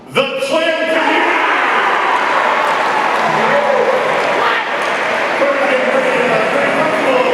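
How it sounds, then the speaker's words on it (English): A crowd at a freshman orientation closing ceremony bursts into sustained applause and cheering, loud and dense, with an amplified voice over the start. "a huge round of applause for"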